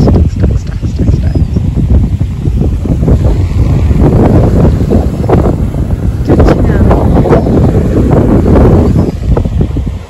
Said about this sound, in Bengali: এদিকে দেখো জলটা থেকে আওয়াজ হচ্ছে এখানে